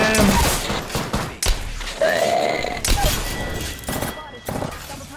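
Video game gunfire crackles in repeated loud, close bursts with heavy thumps, mixed with game sounds and voice chatter.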